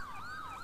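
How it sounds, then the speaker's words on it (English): A police siren in Grand Theft Auto roleplay wails, sweeping up and down in pitch, steady and fairly loud, with no voices over it. "Turn my siren off real quick."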